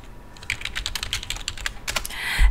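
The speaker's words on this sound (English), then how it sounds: "I'm going to type in a word, vegetable garden." Rapid typing on a computer keyboard, a steady run of close key clicks with a short pause, then a final burst of keystrokes; no talking.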